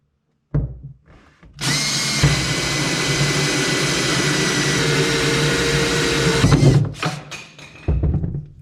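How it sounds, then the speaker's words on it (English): A power drill with a roughly 1 1/2-inch bit bores a second hole through the firewall of a 2018 Polaris Ranger 900 XP. It starts with a few short clicks, then a loud, steady whine holds for about five seconds before winding down. "we're gonna drill our second hole."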